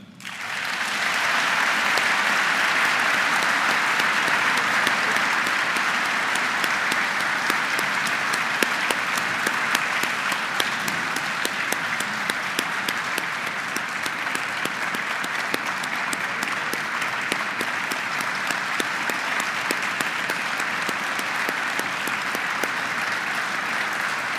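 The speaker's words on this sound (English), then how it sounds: "feel free to applaud as I call their names" Sustained, dense applause from a large audience at a Ghost Army gold medal ceremony honoring World War II veterans, holding steady and loud for the whole stretch without a break.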